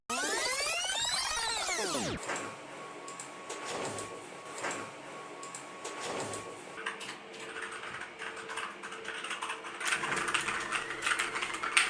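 Mechanical keyboard typing on an Ignik Leet 68A keyboard, a steady clatter of sharp keystrokes that follows a brief rising and falling tonal sweep at the start.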